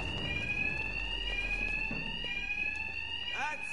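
A fire alarm rings in the Batman: Arkham Knight video game, a steady, piercing electronic tone that continues unbroken throughout under a busy background of game noise.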